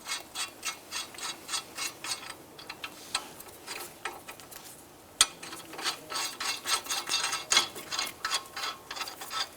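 A ratchet works lug nuts on a 2008-2013 Nissan Rogue front wheel hub during a bearing replacement, giving quick rhythmic clicking bursts with pauses and a sharp metallic knock midway, close and clear.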